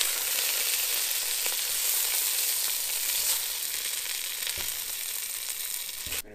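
Sausages browning in a pan for Italian sauce give a steady, dense sizzle and crackle throughout, close and fairly loud, with a few faint scrapes and a brief knock near the end.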